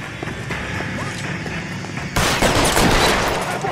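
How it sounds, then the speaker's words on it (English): Gunfire erupts in the video game L.A. Noire as enemies are shot, a loud burst of rapid shots breaking in over a steady game background hum partway through. "I'm glad we got to shoot them."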